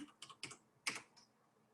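A few quick keystrokes on a computer keyboard, soft separate clicks in a short burst, close and quiet with no talk.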